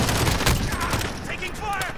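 Gunfire in the video game Call of Duty: Warzone, a dense rapid burst of shots up close, mixed with a voice talking over it.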